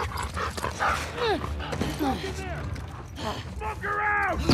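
A dog in The Last of Us 2 barks and yips in short bursts, with a whimper among them, as voices shout and talk over the noise.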